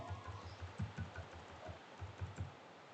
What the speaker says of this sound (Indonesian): tinggal di enter saja.